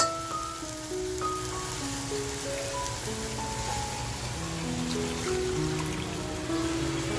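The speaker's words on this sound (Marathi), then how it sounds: "तर बघा लगेचच पाणी टाकतेय मी." Water goes into a pan of sizzling spice masala for a sardine curry, giving a steady close bubbling, spattering hiss that stays even throughout with faint tonal background music.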